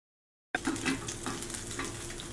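Meat searing in a hot pan bursts into a loud, continuous sizzle after a brief silence, holding steady with crackling spits throughout.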